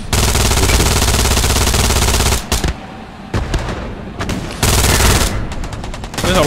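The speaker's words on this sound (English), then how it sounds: "MG35 behind the bushes" Sustained, loud automatic machine-gun fire in the WWII shooter Hell Let Loose, from an enemy MG position behind bushes near a bunker, with dense rapid bursts broken by two short lulls before the firing resumes.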